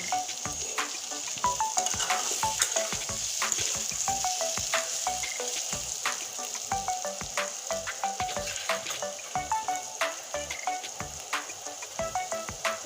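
Onion and potato sautéing in a pan give a constant close sizzle, punctuated by frequent sharp clicks and taps of stirring against the pan, with no talk.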